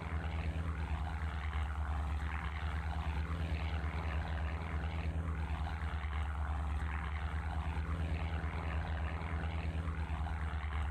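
Aircraft fight an air battle in a video game, heard as a constant droning propeller engine hum with slow, swelling, phasing sweeps as planes pass, steady and fairly loud throughout.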